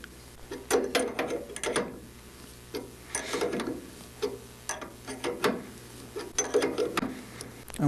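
A hand ratchet tightening nuts on a Van's RV-6 aircraft kit, giving close, repeated bursts of quick clicking strokes with short pauses between, over a faint steady hum.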